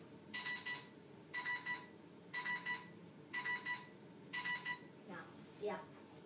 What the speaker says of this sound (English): I get calls during videos.